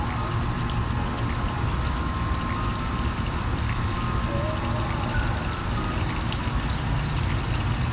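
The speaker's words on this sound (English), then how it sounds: "The water seems to still be running off just a tiny bit." Water trickles from a vase water feature in a steady, continuous flow, with a soft, even splashing wash and faint trickling detail that stays level throughout.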